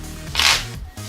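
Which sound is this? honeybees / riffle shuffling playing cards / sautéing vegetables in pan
riffle shuffling playing cards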